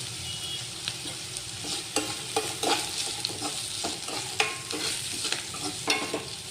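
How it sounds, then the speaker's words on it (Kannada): Onion and green chilli sizzle steadily in a hot pan while a spoon stirs and scrapes through them in repeated clattering strokes, close and continuous throughout. "ಇದನ್ನು ನೀವು ಸ್ವಲ್ಪ ಗೋಲ್ಡನ್ ಕಲರ್ ಬರೋವರೆಗೂ ಫ್ರೈ ಮಾಡ್ಕೊಳ್ರಿ"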